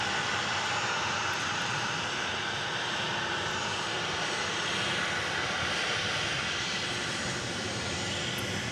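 Steady, broad roar of an Air Canada jet departing for Toronto, heard from a distance at the airport, a continuous even rumble and hiss with no pauses or voices.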